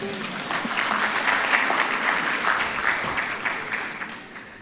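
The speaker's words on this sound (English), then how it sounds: "Kindly clap for my chair." Audience applause for the chair at a meeting, many hands clapping that swell to a steady peak and then taper off near the end, with some voices mixed in.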